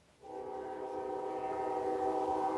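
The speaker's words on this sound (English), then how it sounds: "That train really wants to be part of this show." A train passes loudly outside, its horn-like tonal roar swelling in after a quiet start and holding steady and strong, with no talking over it.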